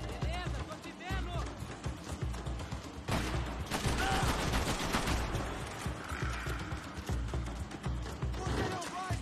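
Rapid video game gunfire, with sustained automatic bursts and dense crackling shots loud throughout, aimed at an enemy during a shooter match.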